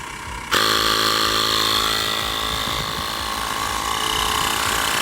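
A Baseus portable air pump kicks on abruptly and runs steadily at close range, a loud buzzing motor drone with a high whine while inflating a car tire.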